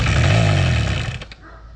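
An old motorcycle engine with a dirty carburetor runs roughly up close, a loud buzzing rattle that falters and sputters out after about a second, leaving a faint hum.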